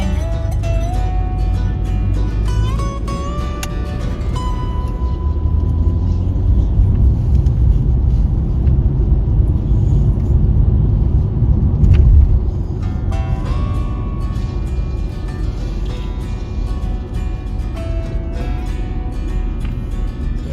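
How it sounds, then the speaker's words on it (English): Heavy bumper-to-bumper traffic on the Pigeon Forge Parkway over a busy Memorial Day weekend, a steady low rumble of idling and creeping cars and engines in both directions, continuous and fairly loud with no talking. "Traffic's something else right now. Both sides are just backed up as far as you can see."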